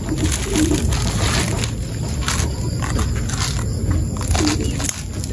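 Racing pigeons cooing in a loft ahead of a South season race, their soft low coos repeating steadily over a constant rustling background noise.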